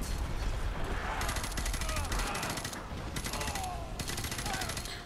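Rapid automatic gunfire from the Modern Warfare 2 campaign on Veteran difficulty, sustained bursts over about five seconds, loud and dense, with game sounds and a little voice activity underneath.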